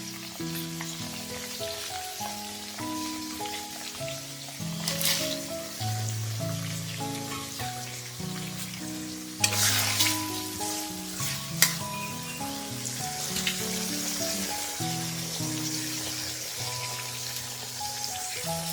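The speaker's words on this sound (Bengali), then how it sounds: "এখন চিংড়ি মাছটা কষানো হয়ে গেছে" Shrimp sautéing in spice masala, a continuous frying sizzle with occasional stirring scrapes and a few sharper bursts, set against steady background music.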